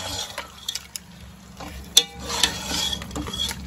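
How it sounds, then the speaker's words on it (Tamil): Masala being stirred into Donne biryani in a pot, with scraping spoon strokes and a soft sizzle, one sharper clack near the middle, no voices. "ஸோ ஆட் பண்ணிவிட்டு இப்போ நம்ம எல்லாத்தையும் சேர்த்து மிக்ஸ் பண்ணிக்கலாம்"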